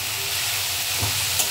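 Red amaranth greens with turmeric and salt being stirred in a hot pan give a steady sizzling hiss, with a couple of soft scraping stir strokes near the end.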